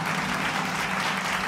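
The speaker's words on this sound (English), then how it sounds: "Okay, you can stop clapping." Audience applause greets a Republican presidential candidate taking the stage at a campaign event: a dense, steady wash of many hands clapping at once, fairly loud, filling the moment without a break.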